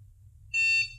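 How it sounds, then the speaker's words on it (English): A dog training shock collar gives one short, high electronic beep during remote pairing. The beep is clear and brief, over a quiet low hum. "It beeps, and then you press the Y button on your remote."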